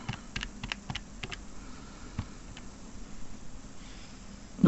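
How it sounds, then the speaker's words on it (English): Calculator buttons pressed during a GCSE maths paper walkthrough, a scattered series of soft, quick clicks with small pauses between them, faint and close, with no talking. "Now it is a calculator paper. Use your calculator."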